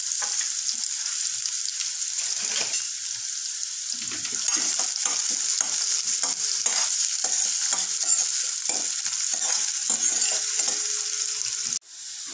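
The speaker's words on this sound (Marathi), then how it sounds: "हा व्यवस्थित गोल्डन फ्राय होईपर्यंत आपण फ्राय करून घेऊयात" Chopped garlic, onion and cumin fry in hot oil for a tempering until golden, sizzling steadily up close while a utensil scrapes and clicks in repeated stirring strokes.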